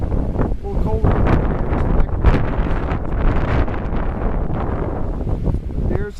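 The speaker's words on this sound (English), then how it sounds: "It's pretty windy." Strong gusts buffet an outdoor microphone on a windy, cold day near the Monocacy Aqueduct, producing continuous low rumbling and thumping wind noise that stays loud throughout.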